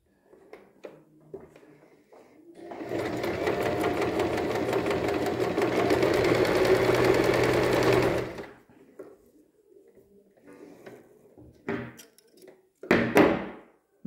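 A sewing machine runs in one steady, loud, close burst of rapid stitching lasting about five seconds, framed by quiet handling clicks and thumps before and after.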